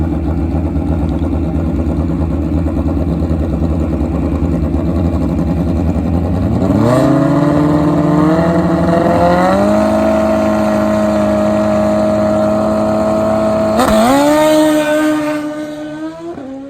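Kawasaki and Suzuki Hayabusa drag-racing motorcycles, one nitrous-fed, roar loudly at the strip, engines holding a steady high drone before rising in stepped, surging pitch through the gears, then a second sharp surge near the end before fading.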